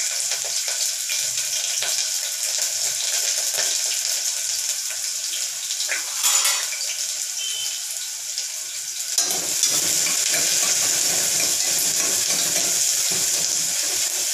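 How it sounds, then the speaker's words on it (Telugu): Chopped onion sizzles hard in well-heated oil, a loud continuous frying hiss with brief stirring scrapes, the sizzle swelling louder again after a short dip partway through. "ఆయిల్ బాగా హీట్ అయిందండి, అందుకే త్వరగా వేగిపోతున్నాయి అవి."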